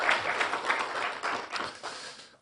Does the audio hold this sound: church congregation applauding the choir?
yes